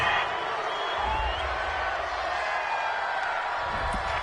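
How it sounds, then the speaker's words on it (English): A stadium home crowd in a football video game roars in a steady, broad wash of cheering, holding at moderate loudness for the whole stretch. "This home crowd, they're happy with that call."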